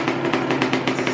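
A 2018 Kawasaki KX125 dirt bike engine idles close by, its steady chugging putting out rhythmic, evenly spaced pulses with no other sound.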